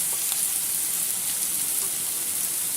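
Onions sizzling in hot oil with fried moong dal for usili upma, a steady loud hiss of frying with faint stirring and no talking.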